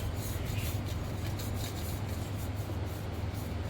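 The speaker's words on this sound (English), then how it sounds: "So this is rubbing the butter on the pan." Butter being rubbed by hand over the inside of a bundt cake pan, a continuous close, even scraping rub without pauses or speech.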